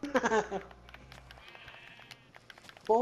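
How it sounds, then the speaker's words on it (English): A sheep bleating in a Minecraft survival game, one soft quavering bleat in the background between stretches of people talking. "That's a sheep."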